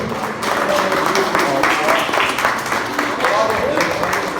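Church congregation applauding in worship at a Brazilian Assembleia de Deus service, a dense, sustained wash of clapping mixed with voices throughout.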